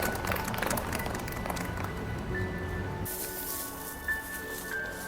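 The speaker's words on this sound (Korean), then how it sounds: "우리 주님께 감사와 영광의 박수 올려드리겠습니다." Street worship service outside Yongsan Station, where worshippers clap in praise: a dense burst of applause at first that thins into scattered claps and outdoor noise, with faint sustained tones in the background.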